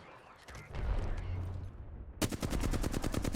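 Rapid automatic gunfire from an Apex Legends match bursts in partway through, a fast close rattle of evenly spaced shots after a stretch of quieter game noise.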